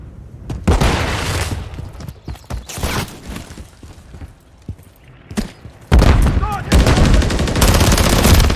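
Gunfire in the video game Call of Duty MW3, dense bursts and single shots with booms crackling in and out, then a loud sustained volley near the end, under faint game voices.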